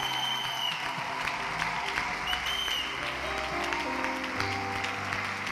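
A church congregation applauds at a worship service, dense steady clapping from a crowd with scattered shouts and voices mixed in, filling the room at a constant level.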